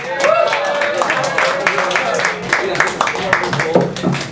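Applause and clapping from a small open mic crowd in a community bar as a comedian is welcomed to the stage, a steady patter of hands with voices talking over it.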